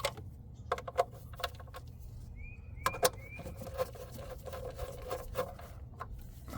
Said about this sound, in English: use your extension without a ratchet to tighten them a little bit more